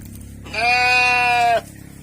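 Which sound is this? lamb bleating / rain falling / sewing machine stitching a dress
lamb bleating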